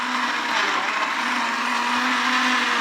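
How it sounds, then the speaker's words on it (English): A loud Russell Hobbs electric blender whirs steadily at high speed blending sauce for a few seconds, a constant churning drone with no voices. "So we got the Russell Hobbs blender."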